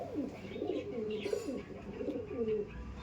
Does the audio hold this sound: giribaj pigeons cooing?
yes